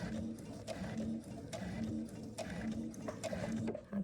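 A sewing machine running a short reverse stitch while joining a towel and fabric into a pet bed, a steady rapid mechanical ticking with a faint regular whir, close and quiet, with no talk.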